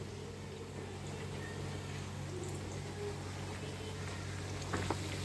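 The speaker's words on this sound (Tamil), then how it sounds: "அப்புறம் சிக்கன் ஃப்ரை பொரிச்சிட்ருக்குது." Chicken pieces frying in hot oil give off a low, constant bubbling sizzle, fairly faint and steady throughout, with a few small clinks near the end.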